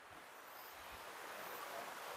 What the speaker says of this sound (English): a river flowing through the garden